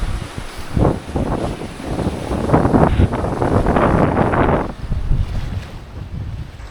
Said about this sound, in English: Wind is up now to between 20 and 23 knots